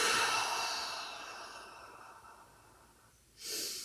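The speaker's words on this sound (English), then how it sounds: "Take a breath through your nose and let it out through your mouth." A long, soft exhale through the mouth during a yoga breathing exercise fades gradually, followed by a short, sharper breath near the end, close and quiet in a calm room.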